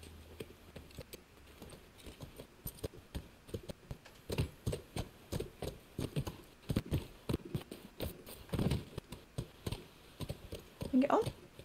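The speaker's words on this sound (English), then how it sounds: "Come on, Callus the horse" A horse's hooves clop in the video game The Last of Us, a rhythmic series of sharp knocks that grows louder and quicker midway, with someone talking over parts of it.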